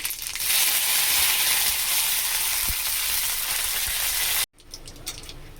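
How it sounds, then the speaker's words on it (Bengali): Dried chillies and mustard seeds tempering in hot oil, a steady loud hiss of frying that holds for several seconds, then cuts off abruptly before a quieter, uneven sizzle resumes. "তেল গরম হয়ে গেছে, দুটো শুকনো লঙ্কা আর সর্ষে ফোড়ন দিয়ে দিচ্ছি"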